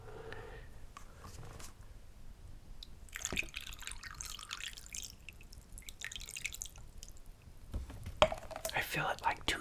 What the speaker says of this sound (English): I fill it like 2/3 with water